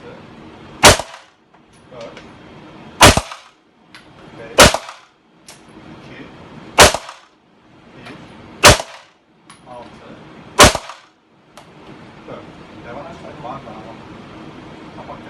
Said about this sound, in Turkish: 10 metre 10 atış. Atış serbest.